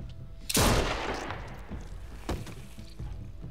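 Gunfire in The Walking Dead Telltale video game: one loud, sharp shot rings out and decays, then a second, quieter shot follows about two seconds later.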